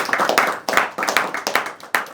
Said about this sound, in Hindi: एक बार जोरदार तालियां फिर से बजाइए।